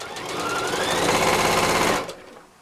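A sewing machine runs fast and close for about two seconds, stitching a cushion insert seam with a half-inch allowance, then winds down and stops.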